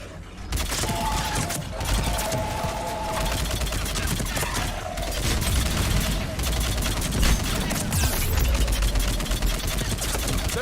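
Rapid, continuous gunfire rattles through a Mass Effect 3 battle, with dense bursts of shots crackling loudly and almost without pause from start to finish.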